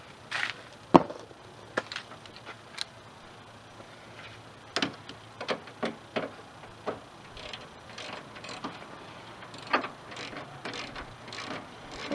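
A socket ratchet tightens bolts on the radiator of a 1994 Plymouth Sundance, giving irregular bursts of close, sharp clicking with pauses and occasional clanks of tools between them.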